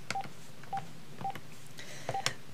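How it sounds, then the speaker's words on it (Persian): Telephone keypad tones sound as a number is dialed, five short evenly spaced beeps with a pair of quick presses near the end, clear and close against a quiet background with no voices. "من اینا رو قطع کردم. رینگ بده."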